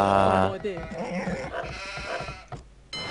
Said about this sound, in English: Yeah, but so many sheep as well.